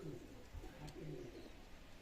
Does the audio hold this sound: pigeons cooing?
yes